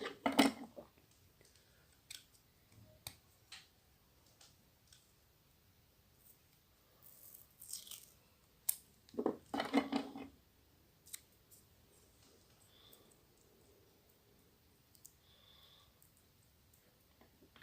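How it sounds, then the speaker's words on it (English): Tape is applied to cuffs for homemade beam-effect costume props, heard as scattered short crackles and rips with quiet pauses between them, close and fairly faint. "Now the whole taping procedure."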